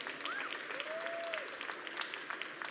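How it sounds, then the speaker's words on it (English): An audience claps for a startup team after their final pitch at a startAD event, a steady wash of applause that carries on evenly while a faint tonal whistle sweeps briefly through. "a round of applause for Andrea and Mopso"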